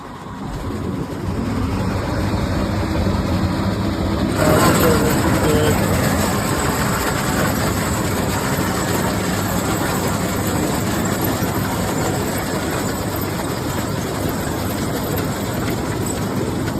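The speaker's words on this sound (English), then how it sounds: "we'll fire up the machine, we'll run it a little here, unfold or fold it, then unfold it" A 2014 Case IH 4412F corn head runs steadily and loud for the whole stretch. The machine starts or surges a few seconds in, then holds a constant mechanical drone with no clear talk over it.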